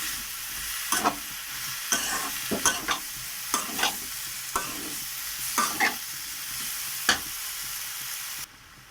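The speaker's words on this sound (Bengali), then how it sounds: "আমি এগুলো দিয়ে আবারও ভালো করে এই কপির সঙ্গে মশলাটা মিশিয়ে ভালো করে নেড়ে ছেড়ে নেব।" Boiled cauliflower being stirred and fried with spices in a pan, a constant close sizzle punctuated by about a dozen rhythmic spatula scrapes and taps before it cuts off near the end.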